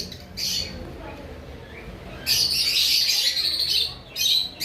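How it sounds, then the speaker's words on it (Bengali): A pair of pet birds, an adult male and female, calling on a home balcony: loud harsh squawks and chirps come in bursts, with a long strong run in the middle and a shorter one near the end. "এবার আসি আমাদের বারান্দায় এখানে একটা পেয়ার পাখি রয়েছে"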